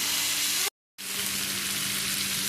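Dried prawns frying with turmeric in a pan, Mangalore style, a loud steady sizzle throughout, broken by a brief cut to silence just before the one-second mark.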